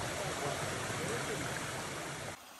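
Rushing water of a rain-swollen stream flowing down an Appalachian Trail path, a steady, loud, broadband roar close by that cuts off abruptly at the end.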